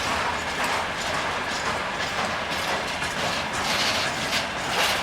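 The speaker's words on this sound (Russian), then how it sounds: "Вот такой вот у нас грузовой состав." A Russian freight train rolls past close by, its wheels clattering over the rails in a loud, continuous rhythmic clack.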